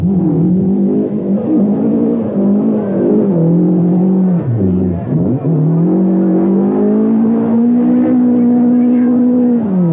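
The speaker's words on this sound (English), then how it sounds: "fueled by the roar of engines and the cheers of thousands gathered at their favourite vantage point" A 1980 rally car engine roars loud and close through a night forest stage, revving hard with a sharp dip in pitch midway before climbing again, sustained throughout without talk.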